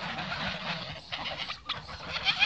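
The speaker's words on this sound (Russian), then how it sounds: "Вот индюшка уже начала гонять селезня старого." Agitated clucking and squawking from farmyard turkeys and ducks squabbling, a hen turkey chasing an old drake, fairly faint and close with quick overlapping calls.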